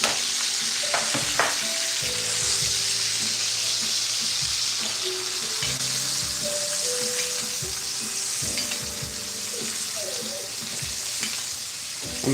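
Melted butter with garlic bits sizzles and crackles steadily as it is spooned on, a close, continuous frying hiss with faint clinks of utensils.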